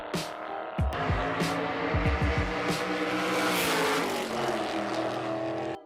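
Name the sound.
Fiat 500 with Lamborghini V12 engine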